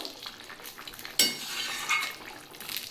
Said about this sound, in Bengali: শুকনো লঙ্কাটা ভেজে রেখেছিলাম সেটাও দিয়ে দেবো দিয়ে বন্ধুরা একটু নাড়িয়ে দেবো